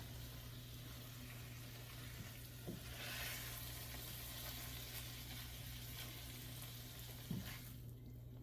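Beef stroganoff is stirred in a pan over heat, with a faint, steady sizzle and a few soft spoon scrapes against the pan, close but quiet.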